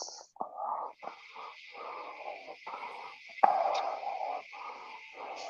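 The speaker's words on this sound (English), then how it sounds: "We can hear you breathing" Close, rough breathing into a microphone comes in uneven puffs over a faint steady hum, with a sharp click partway through.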